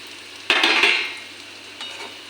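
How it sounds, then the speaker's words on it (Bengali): Semolina being stirred with vegetables in a hot pan: a loud scraping, sizzling stir that swells for about half a second, then settles into a softer steady fry. "সুজিটা সবজির সঙ্গে ভালো করে মিশিয়ে নিই"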